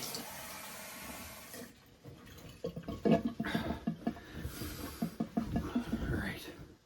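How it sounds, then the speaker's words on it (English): Running water splashes close by as someone rinses off after a shave, a rushing flow that turns to uneven splashing and dripping. "let me get rinsed off here."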